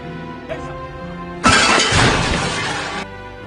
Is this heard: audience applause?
no